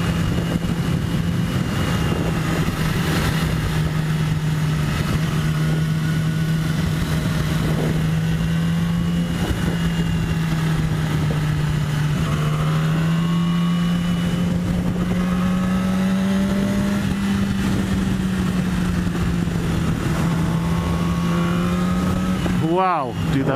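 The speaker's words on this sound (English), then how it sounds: "Oh my god, this wind is scary, man." Heavy wind buffets and roars around a rider on a Yamaha R6 sport motorcycle descending Santa Susana Pass, with a steady engine drone underneath and shifting pitch as speed changes.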